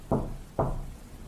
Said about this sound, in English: I hear a knock at the door